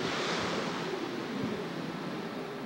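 Strong wind blows across a beach beside the ocean at Humarock, a steady roaring rush of gusts blended with distant surf and no voices.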